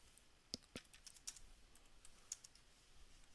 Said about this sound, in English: Here we can type or copy and paste a call out